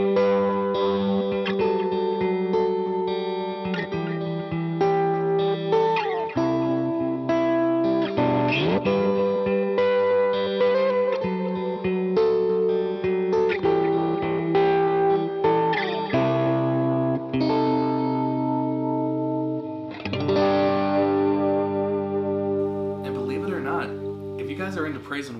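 Electric guitar played through a JHS Bender Fuzz pedal with added delay and reverb, with saturated fuzzy chords and notes ringing into ambient echoing trails, loud and close with no talking.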